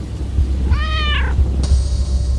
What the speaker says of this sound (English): turned startled to a meow of a cat in the room